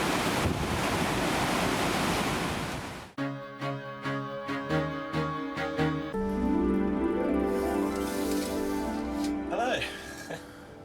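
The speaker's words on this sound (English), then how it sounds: "hopefully you'll pick up an impression of just how towering these waves are" Roaring wind and crashing storm waves around a ship at sea on a voyage to Antarctica fill the opening seconds, loud and close, before a tonal musical passage takes over for the rest.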